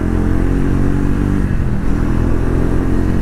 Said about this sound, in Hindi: मजा आ रहा है इस बाइक को चलाने में।